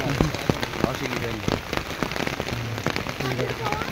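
Sudden rain falling outdoors during a shoot, a dense patter of drops striking surfaces nearby, with scattered sharper taps and faint voices underneath.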